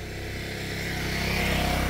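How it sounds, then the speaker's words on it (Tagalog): A motorcycle passes nearby outdoors on a mountain road trip, its engine hum growing steadily louder over about two seconds and ending in a pulsing buzz, with no talk. "Yun, dumaan ng motorsiklo."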